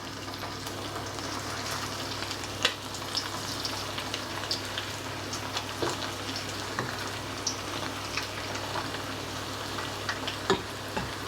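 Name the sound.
marinated chicken pieces deep frying in hot oil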